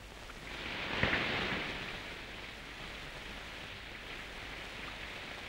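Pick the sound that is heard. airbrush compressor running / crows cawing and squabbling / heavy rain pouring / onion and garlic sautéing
heavy rain pouring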